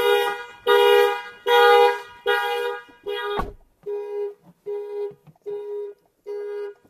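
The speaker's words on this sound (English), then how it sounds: "I know the alarm is very loud." A loud Toyota car alarm blares in repeated pulsing honks, long blasts at first and then shorter, evenly spaced beeps continuing steadily.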